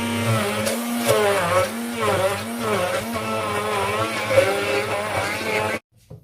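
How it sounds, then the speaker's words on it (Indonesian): A kitchen blender runs steadily, grinding curry spice paste (bumbu) for a shrimp and pomelo curry, with a loud continuous whirring motor and wavering pitch that cuts off abruptly at the end. "Sekarang akan kita haluskan bumbu."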